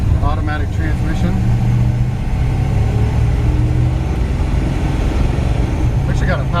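A 1958 Chevrolet Biscayne with a 305 engine and Powerglide automatic idles steadily, a low continuous rumble filling the clip while someone talks over it.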